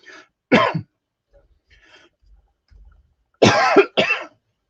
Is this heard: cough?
yes